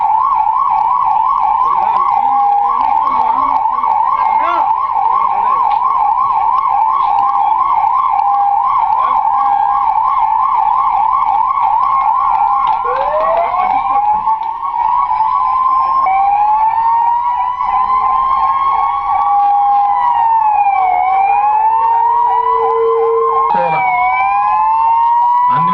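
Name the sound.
108 and 104 ambulance sirens sounding together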